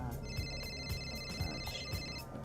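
A phone rings during a call in a video game, a repeated electronic trill pulsing in short bursts over busy background game sound, moderately faint.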